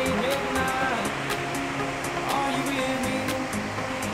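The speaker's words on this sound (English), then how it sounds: "These are cute, tiny little waterfalls." Steady rushing water from small waterfalls in the Catlins, New Zealand, pours and splashes continuously nearby, a constant broadband roar with faint birdsong-like chirps above it.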